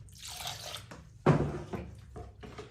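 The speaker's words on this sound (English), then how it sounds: "I'm going to put a drop more water in" Water dribbles and drips into a tub of wallpaper paste being mixed, a few wet splashy bursts close by with brief quiet gaps between them.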